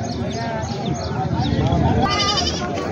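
Goats bleat repeatedly amid the hubbub of a crowded livestock market in Jawala, their wavering cries overlapping with people talking nearby.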